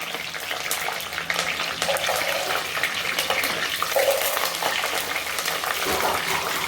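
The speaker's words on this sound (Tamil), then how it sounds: "கடுகு வெந்தயம் போட்டு நல்லா பொரிஞ்சு வந்துருச்சு" Mustard seeds and fenugreek crackle in hot oil for a village-style fish curry, making a dense, even, close-up spitter of popping and hiss throughout.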